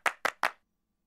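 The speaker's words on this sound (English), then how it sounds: "We hear hands clap" Three sharp hand claps, close and evenly spaced, then silence.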